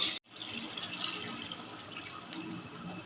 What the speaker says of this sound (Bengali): এবার এর মধ্যে আমি দিয়ে দেবো অল্প পরিমাণে জল